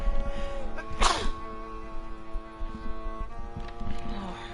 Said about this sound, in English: I managed to get my headphones off in time to sneeze.